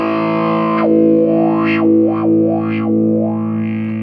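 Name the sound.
distorted electric guitar through Zoom G3Xn effects pedal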